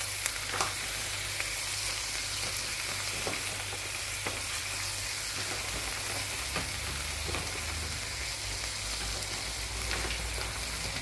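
Carrots for pancit stir-fry in a pan, a soft continuous sizzle broken by scattered clicks and scrapes of a utensil stirring, quiet and close with no talk.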